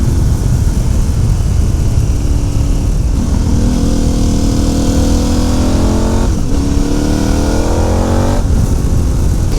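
KTM 1290 Adventure motorcycle fitted with new Bridgestone AT41 tires, engine revving loudly and accelerating through rising gear pulls, steady close roar with brief dips at each shift.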